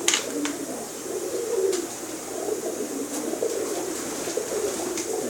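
Breeder's pigeons cooing in a loft, soft repeated low coos overlapping one another with a few faint higher chirps, fairly quiet and close, with no talking.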